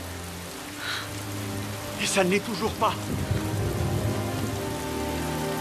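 Steady rain falls in a romantic scene from the film The Notebook, a dense, even patter that runs throughout while a person talks briefly over it.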